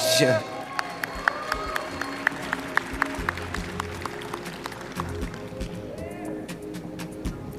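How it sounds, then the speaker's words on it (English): Audience applause at the 2023 Tobago Youth Awards, a youth awards ceremony in Tobago: steady clapping with sharp individual claps runs throughout at moderate level, mixed with a voice and background sound. "Let's keep the applause going, ladies and gentlemen."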